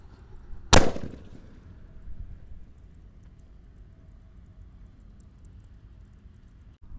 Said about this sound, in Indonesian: Lanjut yang kita nyalakan peluru Basoka Roman Candle 3 Thor ya.